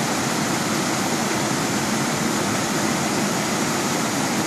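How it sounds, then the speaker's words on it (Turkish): The Ömer Böğedi waterfall in Yeşilkaraman, Aksu, Antalya, pours as a steady, dense broadband rush of falling water, close and constant with no voices. "Ömer Beyadi Şelalesi'ndeyiz."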